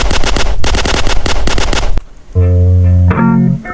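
Rapid video game gunfire in the SpongeBob Crazy Crab game, a loud dense burst of shots for about two seconds, then it stops and gives way to tonal game music and effects.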